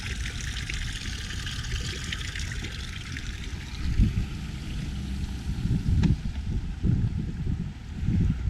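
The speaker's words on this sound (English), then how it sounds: "make sure you have good water flow coming out of the side" Water discharging from the side of a Beneteau Flyer 32 boat, pushed out by its Mabru 12V marine air conditioner, a faint steady trickle and splash under wind, with a few louder gushes.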